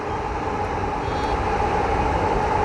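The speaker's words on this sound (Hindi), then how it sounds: "उधर जा रही है मेट्रो" A metro train passes by, a steady, continuous rumble with a broad rushing roar that holds an even level throughout, with no voices over it.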